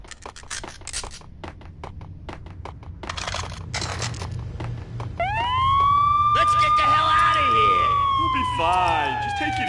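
Police siren in the Max Payne video game, rising and wailing loudly after a stretch of clattering, sharp knocks, sweeping up and down in long tones near the listener, with voices talking over it.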